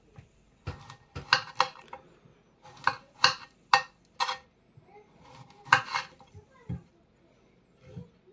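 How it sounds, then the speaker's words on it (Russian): A knife cutting a cucumber on a board for a festive appetizer, producing a series of sharp, close chopping taps with short pauses between them. "Режем огурчик."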